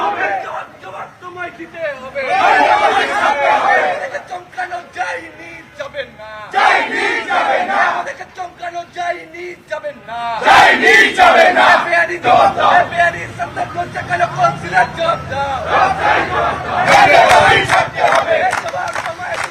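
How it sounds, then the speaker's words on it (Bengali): Trinamool workers protest outside a police station, a crowd chanting slogans in loud rhythmic bursts with shouting voices rising and falling and brief lulls between waves. "বিক্ষোভ তৃণমূল কর্মীদের একাংশের কলকাতার 18 নম্বর ওয়ার্ডের কাউন্সিলর সুনন্দা সরকারের বিরুদ্ধে স্লোগান"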